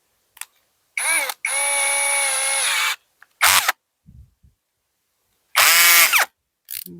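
A power tool loosening a nut during roof sheet work, heard as several short whirring bursts with one long sustained run, separated by silences and faint clanks.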